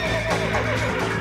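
A horse neighing in the Western game Red Dead Redemption on Xbox, one short loud whinny with wavering pitch, close and alone with no talk.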